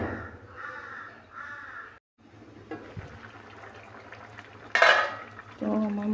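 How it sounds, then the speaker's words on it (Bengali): Chicken curry is stirred in a pot with scraping, clinking utensil sounds, while crows caw loudly nearby and a sharper metallic clatter stands out near the end. "দিয়ে ভালো করে নেড়ে চেড়ে দেব"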